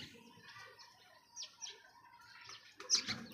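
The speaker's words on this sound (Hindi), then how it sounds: "अली वाला कबूतर है।" Ali breed pigeons give soft chirps and calls, a few brief bursts spread unevenly and close by, with rustling in between.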